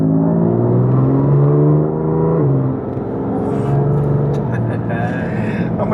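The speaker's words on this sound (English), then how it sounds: "you're going to hear the exhaust" A BMW F80 M3 Competition pulls hard in third gear, its exhaust rising in a climbing drone, dipping briefly at a shift, then building again with a steady roar from inside the car.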